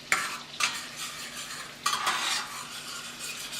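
All-purpose flour stirred into melted butter for a roux for lobster bisque: close scraping strokes of a utensil against the pan come in a few separate bursts over a faint background sizzle.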